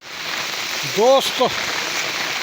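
Steady rain falls outside a rural home, a continuous close hiss through the whole moment, with a short spoken word heard over it.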